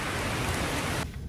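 Steady heavy rain pours down close by as a dense, even hiss, then cuts off abruptly near the end, leaving only faint patter.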